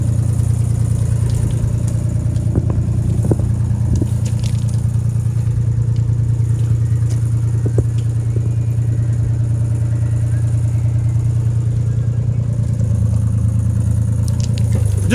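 A 2005 Caterpillar 303CR mini excavator drives nearby, its diesel engine holding a steady low drone with faint mechanical clatter throughout.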